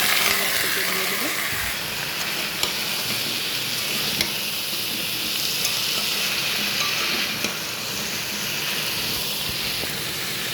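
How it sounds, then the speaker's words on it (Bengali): Ground cumin paste frying in a pan, a steady close sizzle and hiss running throughout with a few faint stirring clicks. "জিরা বাটা হয়ে গেছে, এটাও হালকা ভেজে নিচ্ছি।"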